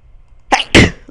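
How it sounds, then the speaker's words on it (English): A person's sneeze, a sharp two-part burst with a short inhaled catch followed by a loud explosive release, close to the microphone against a quiet room. "I gotta sneeze again."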